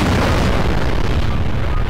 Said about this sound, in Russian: Я запустил 3 мощненские бомбы.